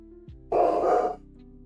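A dog gives a single short, loud bark or huff near the microphone over a steady low hum, with no talking.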